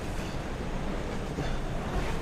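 Inside the executive-class Malabar train as it pulls into Malang station at night, a steady, rumbling wash of wheel and carriage noise runs continuously and loudly with no clear beats.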